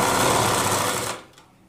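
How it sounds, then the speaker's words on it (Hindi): A sewing machine stitching trim onto a lehenga, a fast steady whirring run of needle strokes up close that stops abruptly near the end. "यहाँ पे सिलाई को लगाना है।"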